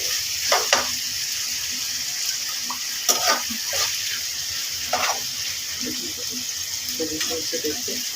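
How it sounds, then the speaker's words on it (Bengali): Vine stems and dried fish being stirred in a frying pan, giving a steady low sizzle with scattered scraping and clinking stirs. "এখন আমরা আবার লতাটাকে নাড়াচাড়া করছি"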